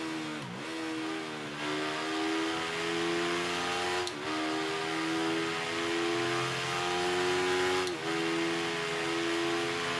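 Supersport 300 motorcycle engine in the Ride 3 racing game, held at a high, steady whine at full speed, with three brief dips as gears shift, loud and close with no voices.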